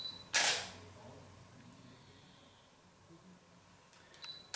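A camera shutter fired by a hand-held remote trigger while photographing flowers: one sharp, fairly loud click, then quiet, then a few fainter clicks near the end, with no talking.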